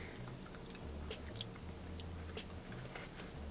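Someone close up chews a crunchy pumpkin dessert studded with pie bits, with soft wet mastication and scattered crisp crunches over a steady low hum.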